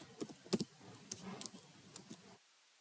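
A spreadsheet function typed on a computer keyboard: a quick, uneven run of close key clicks with one sharper tap, stopping abruptly into near silence.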